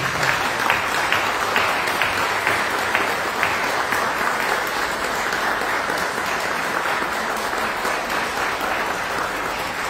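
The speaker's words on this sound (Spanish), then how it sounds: "un aplauso para todas estas mujeres que estamos en este recinto" Applause in the Envigado council chamber during a March 8, 2022 Women's Day session, a dense, steady clapping from the gathered audience that holds for the full ten seconds without a break.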